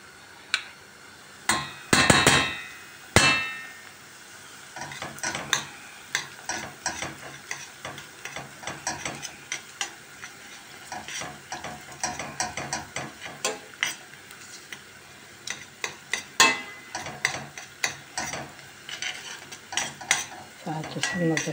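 Tomato paste frying with onions in a pan, with a close, irregular scraping and clacking of a utensil stirring against the pan over a soft sizzle, continuing throughout with no talking.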